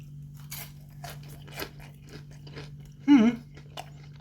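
Crunchy bites of chicken curry leftovers pizza dipped in a mint and coriander sauce, a few soft chewing crunches close by with one louder crisp bite near the end, over a steady background hum.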